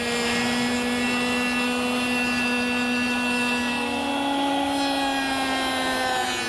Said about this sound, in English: Next, I want to cut a groove in this curved rail to receive the panel.